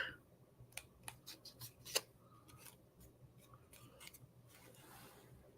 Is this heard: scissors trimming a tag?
yes